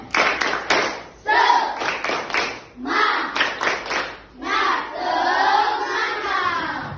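Schoolchildren in an Indonesian classroom perform a rhythmic 'tepuk semangat' spirit clap, bursts of patterned hand claps in quick groups with pauses, mixed with shouting voices and chanting from the class.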